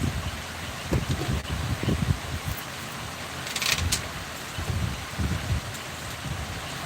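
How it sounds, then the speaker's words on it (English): Rain falling outside at a steady, moderate level, with irregular low thumps and rustling mixed in and a brief brighter patter near the middle, no voices. "As the rain falls outside, every day the rain falls around this time"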